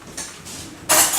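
A spoon scoops scored avocado flesh from its skin while a sandwich is being made, giving soft scraping strokes and then a louder, wetter scrape near the end.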